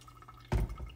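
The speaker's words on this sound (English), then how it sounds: "we're going to pour some water over the filter to knock out all the paper" Hot water at about 205 degrees poured onto a paper V60 coffee filter, a sudden close splash and stream that starts midway and settles into a softer trickle.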